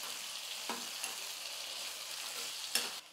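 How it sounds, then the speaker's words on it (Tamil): Quiet, steady sizzling of tomatoes sautéing in a pan, with a couple of soft scraping stirs. "இப்போ தக்காளி வந்து நல்லா வதங்கட்டும்"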